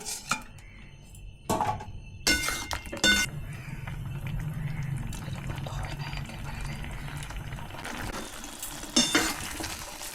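Chicken with lemon zest stirred in a pan, with metal spoon scrapes and clinks against the pan over a steady sizzle, loudest in a few sharp bursts near the start and end.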